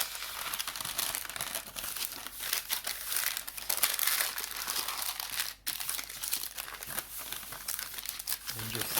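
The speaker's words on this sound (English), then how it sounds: "Then you get greaseproof paper" Greaseproof paper is crinkled and pressed down into a baking tin for orange chocolate chip cookies, giving close, busy rustling and crackling in irregular bursts, with a short pause midway.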